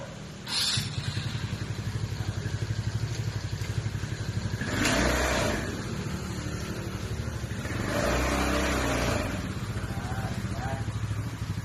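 A Supreme 200cc 4x2 UTV buggy engine runs steadily as the vehicle drives forward, a continuous mid-range drone with two louder surges partway through and clatter over the top; a few voices can be heard.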